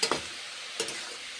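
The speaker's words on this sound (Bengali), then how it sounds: "শীতের সবজি রান্না করছি কষে কষে নেড়ে চেড়ে কুন্তি করে কুক করছি" Cabbage being stir-fried with a spatula for a vegetarian winter vegetable dish, giving two short scraping bursts over a soft, steady sizzle with no talk.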